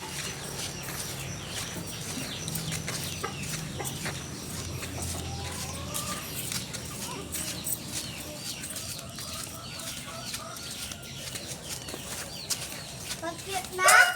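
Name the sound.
chickens clucking, hungry chicks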